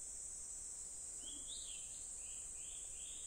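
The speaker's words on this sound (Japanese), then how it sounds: "けたたましいセミの声" Cicadas shrill in a summer scene from the video game Natsu no Kanata: a faint, constant high drone runs throughout, with a few brief rising chirps near the middle and end.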